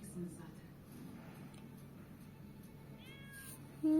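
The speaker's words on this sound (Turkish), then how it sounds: "Aha kedi miyavladı" A cat meows a few times in a video game (Avatar World) against a faint background hum, with a louder, clear meow at the very end.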